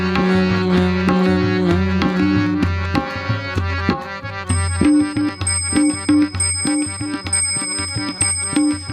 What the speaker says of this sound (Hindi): घंटी की आवाज है।